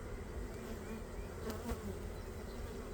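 A dense, steady hum of many honeybees buzzing close by around a hive frame in early spring, a continuous droning swarm with no voices.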